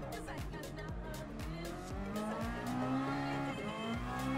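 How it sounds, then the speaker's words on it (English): Honda Sport VGT concept car in Gran Turismo Sport accelerating hard, engine revving up through repeated gear changes with rising pitch sweeps and a sustained tire squeal, loud and close, no talking. "once the turbo kicks in, it really goes through the gears"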